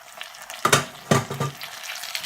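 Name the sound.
potatoes frying with onions in a pan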